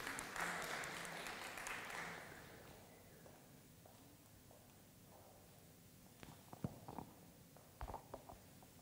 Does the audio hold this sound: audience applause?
yes